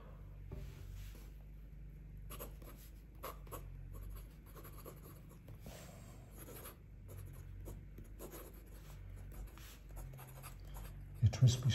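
A TWSBI Swipe extra fine fountain pen scratches across paper in short bursts of strokes, close and quiet, with pauses between words and a faint voice in the background.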